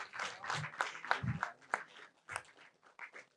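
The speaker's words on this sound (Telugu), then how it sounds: "yes, come on, claps everybody" Sparse, fairly quiet clapping from an audience at an awards celebration event, irregular claps spread over a few seconds.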